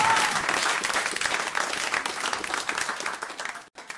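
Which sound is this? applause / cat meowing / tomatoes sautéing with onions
applause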